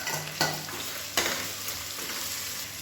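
Potato and tomato sautéing in a pan with turmeric, a steady close sizzle broken by two sharp scrapes of a spoon stirring the pieces.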